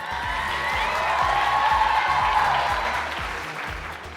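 A live festival crowd at an Eid family event in Karachi applauds and cheers as a guest walks on stage, a sustained wash of clapping and whoops over a thumping music beat.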